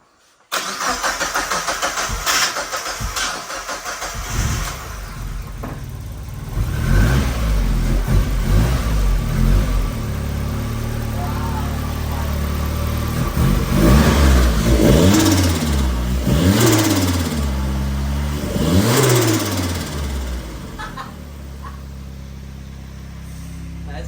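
A Mazda MX-5 fitted with a Kraken turbo kit cranks and fires up, settles into a rough idle, then revs repeatedly in rising and falling sweeps, loud and close with a brief voice in the background.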